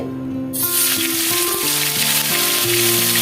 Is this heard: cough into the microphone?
no